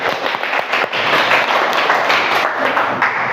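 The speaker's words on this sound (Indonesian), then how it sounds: "Oke, tepuk tangan untuk masnya" Classroom applause for a student from a group of pupils, a dense, loud burst of clapping that carries on steadily throughout without talking over it.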